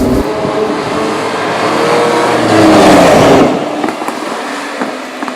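A Lamborghini LM002 driving on a road: its engine is pushed hard under heavy throttle, swelling to a loud peak midway, then easing off to a quieter rumble.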